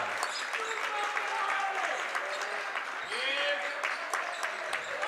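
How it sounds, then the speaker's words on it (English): Steady crowd cheering and applause fill a high school boys basketball gym during Waupun at Plymouth, loud and continuous throughout, with scattered shouts and sneaker squeaks and voices mixed in. "Waupun crowd trying to cheer on this team"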